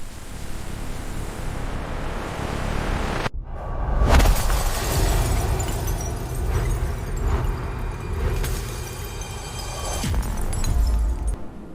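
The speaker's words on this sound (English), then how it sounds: "When the escape happens, the shattering glass is real." Glass shatters in a film escape scene: a sudden loud crash after a split second of silence, followed by roaring, wind-like rumble and scattered debris.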